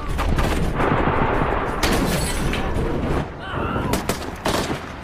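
Rapid bursts of gunfire from Turkish forces fighting ISIS militants crackle continuously over a dense, noisy battle din, with sharp shots standing out throughout.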